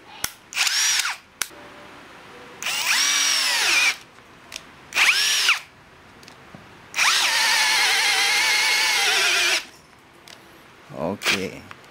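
A Mark-X brushless drill driver on speed 2 drives a 20mm self-drilling bit in several loud, close bursts of whining motor, each rising and sustaining, the longest several seconds, with short pauses and faint talk between.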